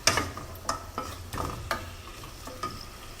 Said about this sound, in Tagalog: So, from this point, hinahalo ko na po yung bagoong para maluto siya.